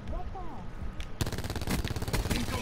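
Rapid automatic gunfire from the video game Call of Duty 4 bursts in after a second of quieter game sound and keeps up a loud, dense rattle, with a player's voice talking over it.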